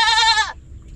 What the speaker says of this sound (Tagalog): Ayan, yung kambing.